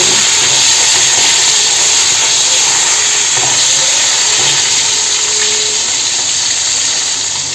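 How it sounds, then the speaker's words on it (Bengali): Steady, loud sizzling and hiss of bata fish, salted and turmeric-coated, frying in hot oil over medium flame, continuous throughout with no talking. "মিডিয়াম ফ্লেমে করে দেব মাছটা ভাজা হোক"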